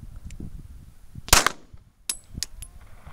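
Several loud, sharp gunshots from a Strike One pistol fitted with a 5-inch barrel, with one big report near the middle and further cracks at the end, each standing alone without talk.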